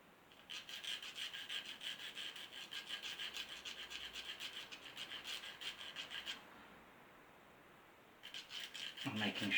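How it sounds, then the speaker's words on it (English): Fine sandpaper rasps in quick, quiet strokes against the tip of a wooden plank on an Amati Endeavour ship model during second planking. The strokes run for about six seconds, pause briefly and then resume. "the tip has to be sanded down a little bit more"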